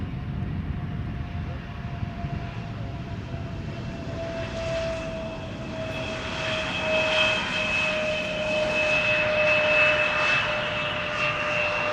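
An airplane at Schiphol Airport departing for Reykjavik, a sustained jet engine roar with a steady high whine that grows gradually louder over twelve seconds, heard without voices.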